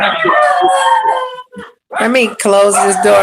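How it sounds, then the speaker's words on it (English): Several dogs howl and whine in loud drawn-out yowls from nearby, broken by a brief pause; a person speaks over them. "My sister's dogs are barking."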